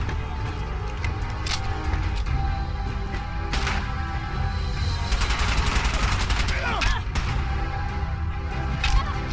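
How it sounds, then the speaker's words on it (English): Gunfire in a Fallout 4 firefight with raiders: dense, overlapping shots and bursts crackle continuously, with sharp loud cracks rising over a steady rumble of combat noise. "A rain of gunfire, but very few seem to be impacting."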